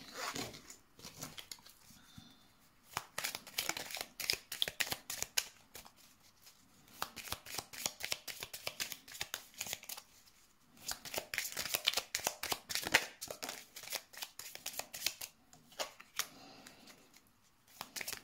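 Tarot cards being shuffled by hand ahead of a card draw, repeated bursts of riffling and flicking broken by short pauses, close but quiet, with no talking.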